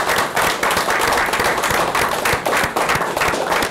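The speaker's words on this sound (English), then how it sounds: "So can we do a round of applause for you?" A small crowd gives a round of applause after a competition announcement, with steady, close clapping that continues for several seconds without talk.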